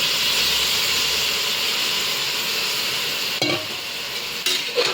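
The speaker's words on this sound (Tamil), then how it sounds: "அதை போய் கிளறி விடலாம்" Goat head curry being stirred in a pan, steady sizzling and hissing of the cooking pot with a couple of short scraping stirs near the end, no talk.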